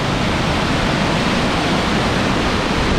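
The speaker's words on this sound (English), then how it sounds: "It's been raining, so this water's really coming down in here." Rain-swollen lake overflow water rushes loudly and continuously down a drainage tube, a dense, steady roar of churning flow with no breaks or voices.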